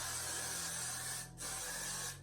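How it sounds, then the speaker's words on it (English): Got To Be hair spray is sprayed onto braids in a steady close hiss from an aerosol can, one long burst broken by a brief pause before resuming. "I'm gonna use some Got To Be spray to lock in everything"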